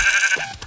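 A goat in Minecraft lets out a short, wavering bleat, loud and close, over faint game ambience.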